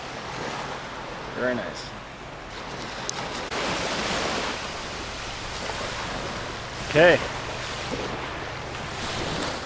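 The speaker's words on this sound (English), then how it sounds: "Hear the waves breaking over the reef there." Ocean waves break over the reef at Seven Mile Beach in the Cayman Islands, a broad washing roar with wind buffeting the microphone, while someone speaks briefly over the surf.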